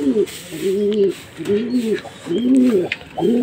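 Racing pigeons at their loft coo in a repeated rhythmic series of low, close, clear calls, with faint background noise between them.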